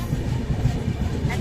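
A train runs steadily with a dense, low rumble and faint rhythmic clatter, heard from inside a hot, crowded carriage on the way to Digha station.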